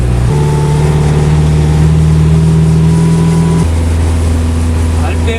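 RX tractor engine idling steadily at a set RPM, a loud continuous drone whose pitch steps down partway through as the speed setting drops, heard close and alone.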